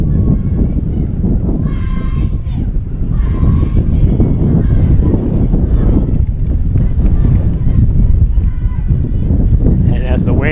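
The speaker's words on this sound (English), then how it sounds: "Wind is making it very, very difficult." Strong wind buffets the microphone at a college softball stadium, a constant loud roar of rumbling gusts that buries faint crowd noise and talk.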